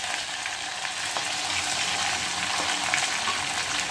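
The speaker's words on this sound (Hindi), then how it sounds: "प्याज को हल्का ही भूनना है, बहुत ज़्यादा डार्क नहीं करना है।" Chopped onions fry in a pan after cumin, giving an even, moderate sizzle with faint crackles, close up and uninterrupted by speech.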